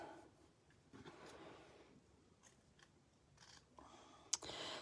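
Several short, crisp snips of scissors cutting through paper, spaced irregularly, with a louder sharp snip near the end, close by and fairly quiet.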